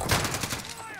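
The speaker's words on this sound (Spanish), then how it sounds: "dispararle más por si acaso" A rapid burst of automatic gunfire in the battle royale game Warzone. Several close, punchy shots fire in quick rhythm, then trail off within a second.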